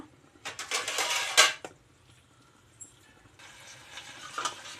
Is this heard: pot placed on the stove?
yes